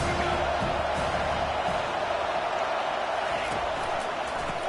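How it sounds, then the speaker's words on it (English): A stadium crowd roars steadily throughout an NCAA 25 college football video game, a loud, dense wash of voices that stays at one level under faint commentary. "This crowd trying to make life miserable for this offense."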